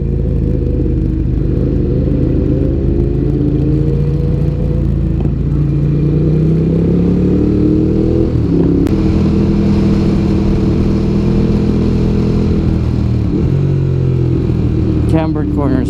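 BMW S1000RR motorcycle exhaust on a road ride, a continuous engine drone with rising and falling rev sweeps and a brief crackle, heard close with wind rush and a voice talking over it.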